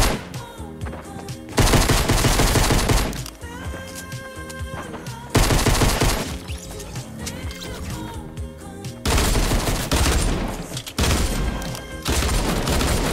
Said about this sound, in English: How are my shots not hitting?